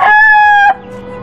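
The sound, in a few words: rooster crowing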